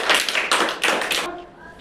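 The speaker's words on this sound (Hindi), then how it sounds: "जोरदार ताली लगाइए।" A classroom group of children claps in a few short, sharp bursts, loud and close, ending abruptly into quiet room noise.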